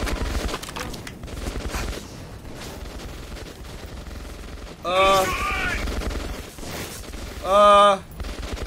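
Gunfire in the video game Metro 2033 Redux, with dense rapid shots and explosive bursts running throughout, under game noise and two short, louder shouted vocal outbursts.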